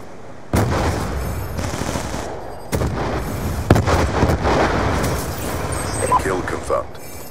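Swarm drone killstreak gunfire in a 6v6 first-person shooter match, bursts of rapid shots and heavy blasts that start abruptly and rattle on, with some sharp peaks and a brief announcer voice.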